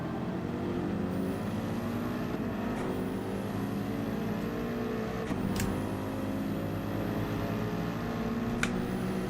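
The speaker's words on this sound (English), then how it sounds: "You can hear your car when you're behind these bloody Mercedes." Group 3 race cars at Brands Hatch GP Circuit in Gran Turismo 7 drone steadily with rising and falling engine pitch as gears shift, a sustained loud whine with occasional sharp upshift clicks.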